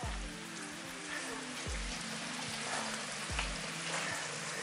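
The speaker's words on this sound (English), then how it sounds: "there's a lot of water just falling down right there" Meltwater falls steadily from the ceiling of a melting ice cave, a dense rain-like patter of drips with a few heavier splashes, close and continuous.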